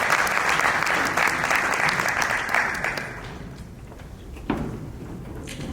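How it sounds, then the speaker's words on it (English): A crowd at a startup pitch competition applauds a finalist called to the stage, dense clapping loud for about three seconds, then thinning and fading. "Please round of applause."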